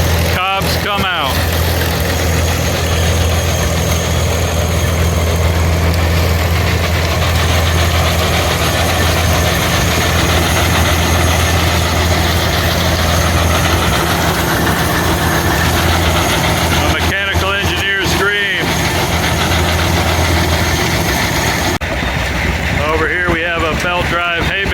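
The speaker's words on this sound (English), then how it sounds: "running a belt drive to the corn processor. Stalks go in," Antique engine at a machinery club show drives a belt to a corn processor that takes in stalks and puts out cobs, a steady loud mechanical drone running throughout with people talking over it.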